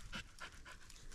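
A dog panting after a long hike in the Shenandoah area, close and quiet, with a steady rhythm of about four quick breaths per second.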